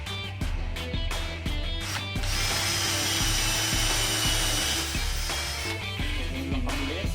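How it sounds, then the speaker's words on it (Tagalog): INCO 20V cordless impact drill at speed 2 boring holes, several close, loud whining bursts of motor drone that start and stop, with a long sustained run through the middle. "So, nakalagay ito sa speed 2 drilling function. Okay, let's see. Okay, let's drill some holes."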